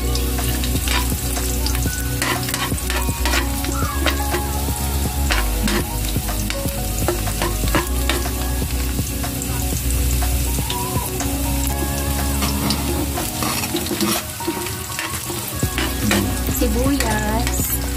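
Garlic sizzles and crackles steadily in a hot pan as the base for chicken sinigang, a dense continuous fry with scattered pops and occasional stirring scrapes, loud and close throughout.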